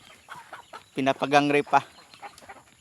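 Chickens on a rural farm let out a short burst of loud, harmonic clucking calls near the middle, with quieter scattered clucks and a voice speaking around them.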